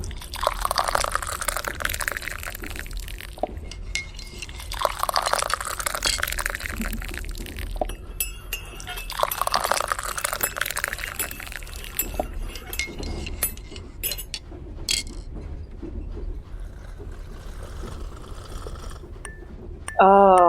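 Tea poured from a pot into cups in repeated sweeping streams, with faint clinks of china and cutlery in a quiet room, close and steady.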